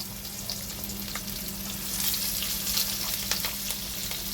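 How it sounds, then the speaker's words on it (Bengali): Chopped onion hits very hot oil spiced with cloves and shahi jeera, producing a continuous close-up sizzle that grows louder and denser partway through, with a faint low hum beneath. "তেলটা যেহেতু ভীষণ গরম হয়ে গেছে, তার জন্য আমি সঙ্গে সঙ্গে পেঁয়াজটা ছেড়ে দিচ্ছি"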